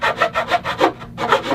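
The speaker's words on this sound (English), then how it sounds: "I'm going to use the actual end wedge as a saw guide to cut a kerf down through the" A hand saw cuts a kerf down through wooden guitar sides, guided by the end wedge: about eight steady, rhythmic rasping strokes, close and clear, then a brief pause before one more stroke.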